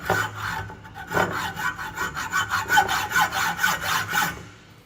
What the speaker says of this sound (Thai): ถ้านำร่องตรงนี้เสร็จปุ๊บให้เราทำการจับ ตัดแบบนี้นะครับ ให้เราออกแรงกดเบาๆตรงที่ ใบเลื่อยตรงนี้นะครับ